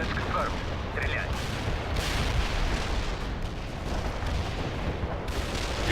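Dense artillery barrage in the real-time strategy game World in Conflict, a continuous roar of overlapping distant explosions and rumble with a voice speaking over it.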